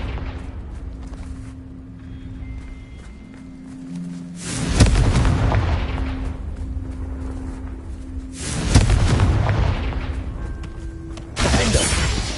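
Three heavy blasting-spell explosions from the Confringo spell in the Hogwarts Legacy video game burst out at intervals, each a loud broadband boom with a rumbling tail, over a low droning game score.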